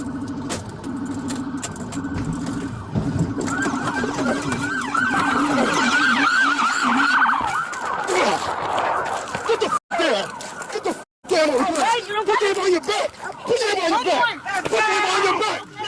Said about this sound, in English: One officer executes a flawless pit maneuver, sending the Mazda spinning directly into a concrete barrier.